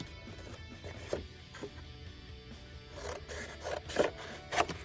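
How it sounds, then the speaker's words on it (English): Scissors trimming paper for a coffin-shaped mini album: a few short, close, quiet snips with light rustling between them, spaced irregularly. "you can trim this off to about 1 inch or so"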